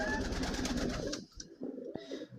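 Pigeons coo in low, soft, rolling tones amid rustling noise in a poultry yard, then things go quieter with a few scattered knocks.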